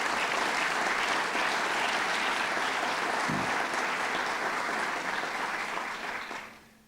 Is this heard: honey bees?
no